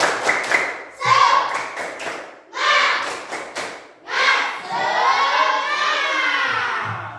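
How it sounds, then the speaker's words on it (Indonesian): Children in a Madrasah Quran-Hadith classroom perform the tepuk semangat chant, rhythmic group clapping in bursts alternating with shouted chant phrases, ending in a sustained loud group shout. "Tepuk semangat."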